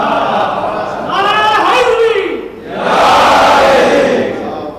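A large Muharram majlis congregation in Kanodar, Gujarat, raises the Nara-e-Haidari slogan in two loud, massed shouted bursts, the second swelling fuller and longer than the first.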